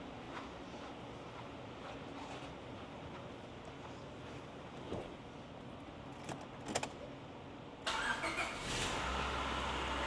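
A 2000 Honda Civic with a B16A VTEC engine, jump-started from a booster pack, gives a few faint clicks and a short crank before catching and settling into a low idle.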